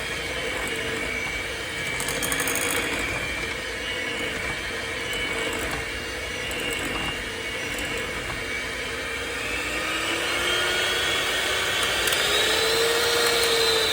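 An electric mixer on low speed whisks syrup pudding batter, giving a steady, continuous motor whir with a slight rise in pitch toward the end.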